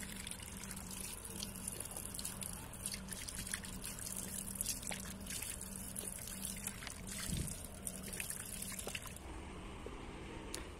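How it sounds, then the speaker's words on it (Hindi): Someone drinks water outdoors on a hot day at a college campus in Sopore. A faint, steady trickle of liquid sits under broad, constant outdoor background noise, with no talking. "मुझे थोड़ी प्यास लगी है और मैं थोड़ा पानी पीऊँगा"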